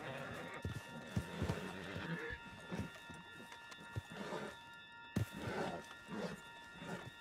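A horse in the video game Red Dead Redemption 2 clip-clops along at a steady gait and lets out whinnies and snorts nearby, amid game sound effects.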